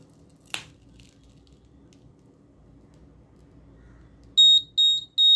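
After a quiet stretch with one sharp click, the buzzer of an ESP8266-based patient health monitoring system sounds a shrill electronic alarm in three loud, high-pitched beeps close by.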